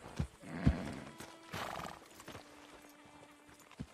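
A horse in Red Dead Redemption gallops with clip-clopping hooves and gives a whinnying neigh, mixed with thuds and game ambience, and no one speaks.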